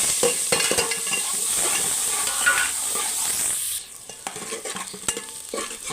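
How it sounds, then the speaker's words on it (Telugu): Onions fry in a pan while being stirred, dense crackling sizzle with frequent sharp scrapes and clicks of the spatula against the metal, the sizzle easing noticeably partway through as the stirring continues. "ఉల్లిపాయ అయితే వేగిందండి"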